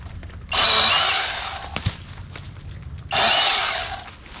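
A NaTiddy mini chainsaw cuts around a tree in two loud, close bursts of buzzing sawing with a short pause between them.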